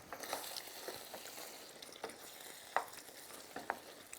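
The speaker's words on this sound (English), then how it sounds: "with a wooden spoon, just give it a nice stir" A wooden spoon stirs a pot of Neapolitan ragu, soft scraping and scattered faint clicks over a low simmering sizzle, quiet and close.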